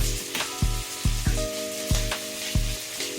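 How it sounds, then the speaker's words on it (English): Chopped onions sautéing in butter for an Alfredo sauce, a steady sizzle in the pan punctuated by regular rhythmic clanks from stirring or music beats, with a sustained tone running underneath. "I'm going to saute these onions for a few minutes."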